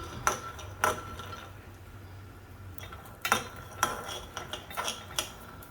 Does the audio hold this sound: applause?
no